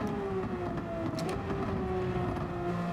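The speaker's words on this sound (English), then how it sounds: "I'm impressed with this Porsche 992. It's enjoyable to drive. It sounds fantastic." A Porsche 992 engine in the video game Gran Turismo 7 drones steadily at mid pitch, its tone rising and shifting slightly as it accelerates, heard continuously without voices.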